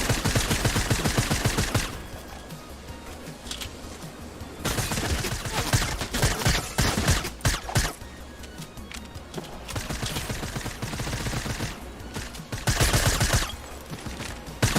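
Rapid SMG gunfire from the video game Fortnite: bursts of loud, dense shots come in clusters among other battle sounds over music-like game audio, with no talk.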